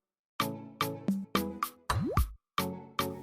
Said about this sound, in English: In a bowl, take 2 eggs for coating.